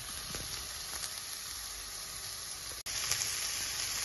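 Onion and ginger fry together in a pan with a constant close sizzle, broken by a few soft stirring knocks and one brief dropout, with no voices.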